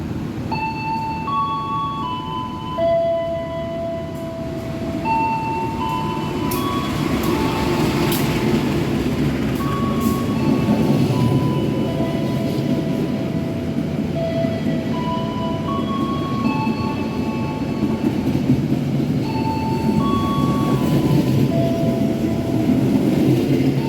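Senja Utama Jogja passenger train overtaking on an Indonesian railway line, a loud sustained rumble of wheels and carriages building slightly and holding steady, with faint high whistling tones drifting over it, no talk.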